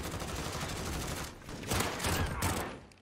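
Video game gunfire from an MP5 in a multiplayer shooter, a rapid burst of shots in quick succession, fairly faint against the game's background noise, with no talking.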